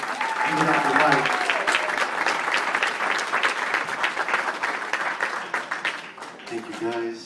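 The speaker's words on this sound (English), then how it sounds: "I think Mac McIntyre needs another round of applause." Audience applause at an evening storytelling show fills the room with sustained clapping, with a voice talking over it at the start and again as the clapping fades at the end.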